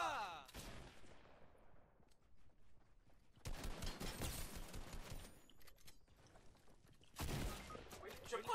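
Video game gunfire including a sniper shot: several sharp, distant-sounding bursts of shots with fading echoes, separated by quieter gaps, under faint background game noise.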